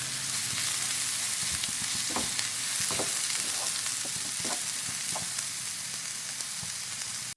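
Masala for fish pollichathu fries in a pan under a steady, loud sizzle, with intermittent scraping stirs of a spoon across the pan, close-up and with no voices.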